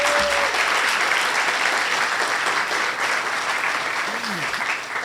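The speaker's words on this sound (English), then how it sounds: "Let's give all of our presenters a warm round of applause." An audience at a ribbon cutting for a new event center applauds presenters, a dense sustained round of clapping that holds steady for several seconds and tapers slightly near the end.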